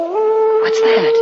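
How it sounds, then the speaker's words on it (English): Dog howling outdoors as a radio drama sound effect, a long sustained wavering howl heard under a speaker's spoken question. "Oh, that was just a dog"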